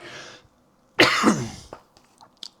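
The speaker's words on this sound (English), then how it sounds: "my cough's come back for no reason at the worst time" A single harsh cough bursts out close by, followed by a few small throat sounds and breaths.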